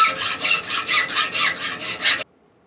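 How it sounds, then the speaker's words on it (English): Hand file rasping across a thin steel door latch spring in steady back-and-forth strokes, about eight close, loud rhythmic passes that stop abruptly into silence. "when you're filing thin stuff like this, you'll get a harmonic going that'll just drive right through your skull"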